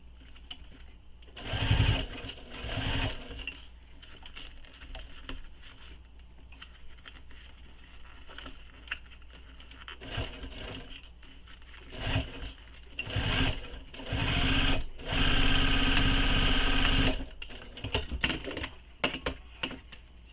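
A home sewing machine stitches a zippered fabric waist pack, running in several bursts of rapid mechanical whirring and rattling with pauses between seams, close and loud.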